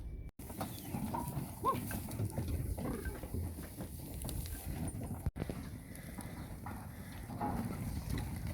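Sheep in a farmyard, with low bleats and shuffling hooves over a steady, noisy outdoor background.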